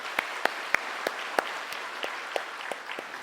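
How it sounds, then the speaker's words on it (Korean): Church congregation in a Sunday service clapping to welcome a newly appointed pastor, a rhythmic unison clap in steady beats that softens toward the end over a light patter of hands. "인사하실 때 박수로 환영해 주시기 바랍니다"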